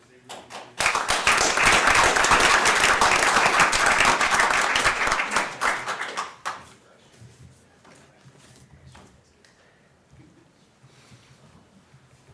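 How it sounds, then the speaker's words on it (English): A town board meeting audience bursts into loud, sustained clapping that lasts several seconds and then drops off abruptly, leaving quiet room noise with a brief spoken word. "give them another round of applause"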